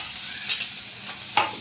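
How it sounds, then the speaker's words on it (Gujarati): Ginger, chili and garlic paste sautés in a little oil for a samosa filling, giving a brief, steady sizzle broken by a couple of stirring scrapes. "ને હવે એની અંદર આપણે આદુ, મરચાં, લસણની પેસ્ટ છે ને એ નાખશું. એને પહેલાં સાતળી નાખશું આપણે"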